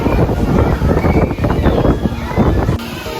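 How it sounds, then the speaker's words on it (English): Strong wind roars across the forward area of deck 12 on the Disney Treasure cruise ship at sea, a loud, continuous buffeting rush that fills the clip with steady gusts, and a brief drop in the wind near the end. "It is super windy"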